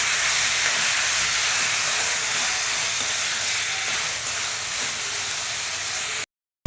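Tomatoes frying in a pan for uggani bajji, a loud, steady hiss of hot oil and steam running unbroken, then cutting off abruptly, no talking.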